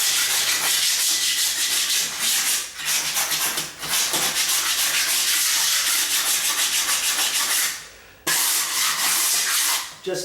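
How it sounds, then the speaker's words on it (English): A dull hand scraper drags across a floor in long, harsh, rasping strokes that repeat with short breaks between them, loud and close, with no talking. "Just looking to get this better so I can use this scraper, and this scraper blade is dull."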